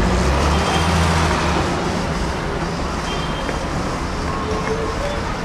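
Chase buses pass along a road in Walsall, a continuous loud rumble of diesel engines and traffic noise close by, without a break.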